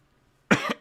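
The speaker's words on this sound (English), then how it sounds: "Again, very sorry for the cough." A single harsh cough bursts out close and loud after a brief near-silence, with a second smaller cough following quickly.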